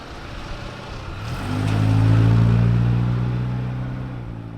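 A USPS mail delivery vehicle pulls up outside, its engine hum swelling steadily then easing off, heard from a moderate distance, with no talking.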